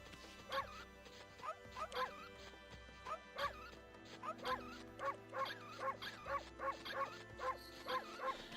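A dog in the video game Okami yips and barks in quick repeated bursts over looping background music, with occasional whimpers, fairly faint and steady throughout.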